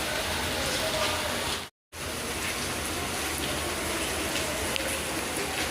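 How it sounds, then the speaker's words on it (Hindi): Heavy rain pouring down steadily, a dense broadband hiss close by with a brief dropout partway through, continuing loud and unbroken otherwise. "तो ये देखिए आज दिन में 3 बार बारिश हुई है।"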